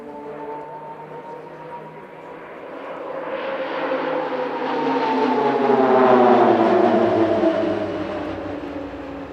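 Military jets fly a four-versus-four opposition pass at the Leszno airshow, making a continuous loud roar that swells to a peak partway through and then eases off.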